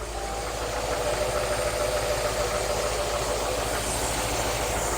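A car engine with its ignition timing set far too retarded runs rough and sputtery at close range, a steady low drone with uneven, stumbling pulses throughout and no talk over it.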